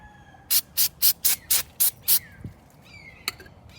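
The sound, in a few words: spraying brake cleaner on ATV wheel hub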